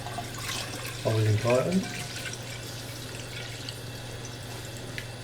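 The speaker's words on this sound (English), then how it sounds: "So we'll get the water in first" Tap water running into a large cooking pan for boiling a gammon joint in a home kitchen, a short burst of filling splash with a steady low hum underneath and a voice speaking briefly over it.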